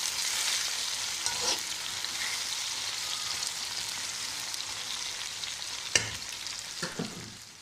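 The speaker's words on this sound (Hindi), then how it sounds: "आलू बैंगन प्याज सब अच्छी तरह फ्राई हो चुके हैं" Potatoes, eggplant and onion fry in a pan for an aloo baingan dish, a steady close sizzle with a few sharp spatula stirs and clinks near the end.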